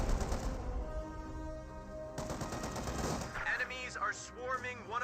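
Rapid bursts of .50 cal machine gun fire in Company of Heroes 2, loud rattling volleys amid battle noise, with a voice talking over the fire in the second half.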